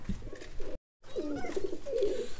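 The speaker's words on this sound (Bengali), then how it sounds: "শুভ ভাই এখানে এগুলো আমরা কি কবুতর দেখছি?" Soya chandan pigeons coo softly at a pigeon farm in Rajshahi, low rolling calls repeating close by after a brief dropout, with no talking.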